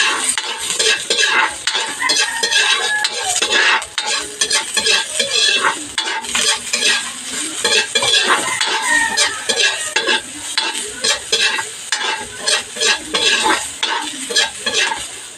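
Garlic sautéing in a pan for pansit canton, a loud, close sizzle under brisk, repeated scraping and clinking of a utensil against the metal, with no talking.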